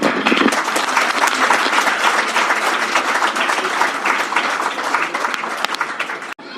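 Applause from the audience at a Godhuli programme event, a full, steady burst of many hands clapping that holds evenly and ends abruptly.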